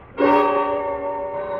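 A telephone bell rings in a 1950 radio suspense drama, one sustained, steady ringing tone starting abruptly and holding loud and close for over a second, with no voices over it.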